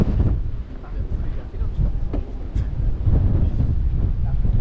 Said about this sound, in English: It's beautiful, but it's very, very windy.